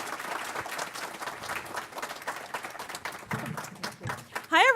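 An audience claps to welcome a speaker at a customer-experience talk, a continuous rolling applause of many hands in a roomy space, with voices and cheers mixed in and a speaker starting to talk at the very end.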